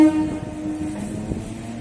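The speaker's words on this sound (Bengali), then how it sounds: "ট্রেন ছেড়ে দিয়েছে।" A train pulls out of New Alipore station, a short horn tone at the start giving way to a low rolling rumble and clatter of the carriages, fairly loud and near.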